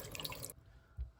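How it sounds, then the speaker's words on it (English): Filtered tap water runs briefly over dog food being rinsed at a sink, a short trickling splash that cuts off partway, followed by a soft low thump, fairly quiet with no talking. "I'll rinse them off in the filtered water"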